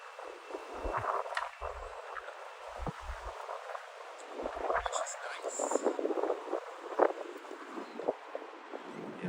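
Gusty wind buffets a microphone outdoors on a warm day in Queens, New York City, with low rumbling bursts coming and going over a breezy hiss while a person talks.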